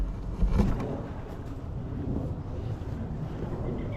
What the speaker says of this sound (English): So looking down here now from the waterfalls.